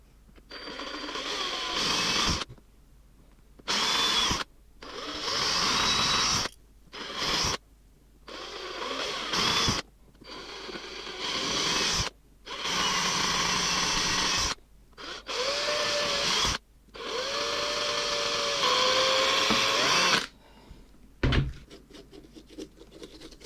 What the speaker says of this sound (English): just drilling some holes in so I can feed me rope through